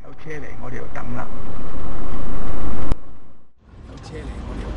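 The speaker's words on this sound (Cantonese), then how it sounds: "有車嚟，我哋要等啦。" On a Yau Tong driving-test route in Hong Kong, a car approaches along the road. It grows steadily louder from a distance until an abrupt cut, with a voice speaking early on.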